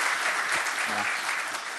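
An audience at a business gathering applauds in a steady, dense wash of clapping that lasts throughout, with a faint voice briefly audible underneath.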